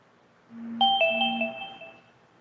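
A phone ringtone plays a short electronic chime of a few bright, sustained tones that ring out and fade over about a second, with a faint low hum underneath.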